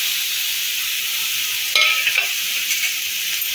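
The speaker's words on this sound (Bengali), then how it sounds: "এখন ভেজে রাখা আলু বেগুনটা এর মধ্যে দিয়ে দেবো" Fried potato and brinjal go into softened frying masala for masala baingan, bringing a continuous hiss of frying and a brief burst of spatula scraping and stirring in the middle.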